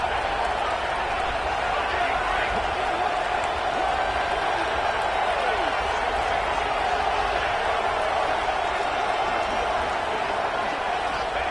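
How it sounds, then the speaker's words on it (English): A football stadium crowd roars at a steady, loud level during a two-point conversion attempt in the fourth quarter, a dense wash of cheering that continues throughout. "this crowd is electric trying to stop them"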